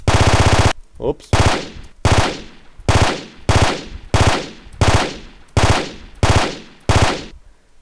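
Loud, punchy gunfire bursts from a weapon sound effect repeat about once a second, each sharp blast trailing into a short decay, after a brief spoken interjection near the start.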